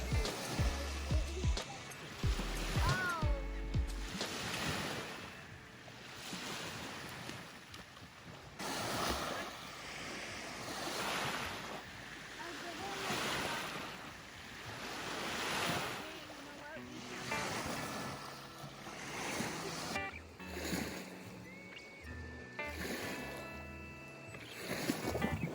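Waves wash onto a quiet beach in slow recurring swells, with gusts of wind buffeting the microphone and voices heard now and then.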